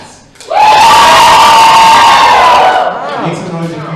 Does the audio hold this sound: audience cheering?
yes